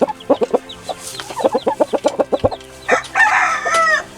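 A rooster crows amid a flock of clucking chickens of game breeds such as Ga Noi, Shamo and Asil, with rapid rhythmic clucks followed by a loud, drawn-out crow close by.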